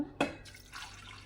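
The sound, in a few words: water being poured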